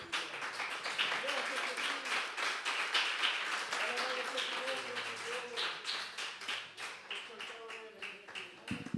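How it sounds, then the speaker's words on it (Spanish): A church congregation claps for the Lord during a Spanish-language sermon, a dense, fairly loud wash of many hands clapping in a reverberant room while a voice carries on over it. "Yo le invito a aplaudir al Señor."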